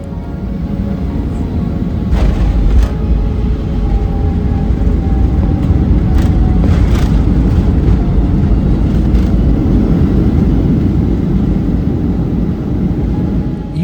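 A passenger airplane lands in the middle of a small capital city lined with houses and shops, a loud, continuous engine and air roar that holds steady and swells slightly throughout, with no voices.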